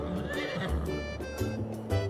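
A horse in Farming Simulator 22 gives a clear, close whinny with rising and falling tones, followed by light hoof clip-clops.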